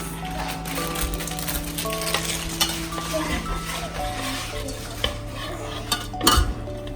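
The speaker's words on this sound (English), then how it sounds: "And keep stirring." A utensil scrapes and clinks steadily in a pan of melting chocolate brownie mixture over a low background hum, with a few louder knocks near the end and no speech.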